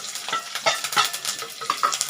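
Garlic, onion, curry leaves and green chillies sauté in hot oil in a pan, a close, steady sizzle broken by the scrape and clatter of a stirring spoon.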